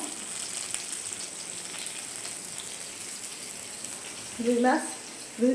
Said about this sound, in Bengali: এখানে 2 পিস মাছ ভেজে নিচ্ছি ছেলের জন্য